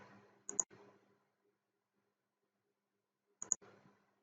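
Two crisp computer mouse clicks while working in Autodesk Inventor, each a quick double tick, spaced about three seconds apart in a quiet room with faint murmuring in the background.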